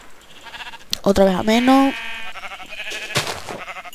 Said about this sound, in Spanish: vamos a pillar ovejas para la lana